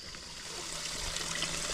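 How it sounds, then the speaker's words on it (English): Small stream of water running through a canal after a tropical storm, a steady soft outdoor rush and trickle with no voices, fairly faint and continuous. "we've got a small amount of water running right now"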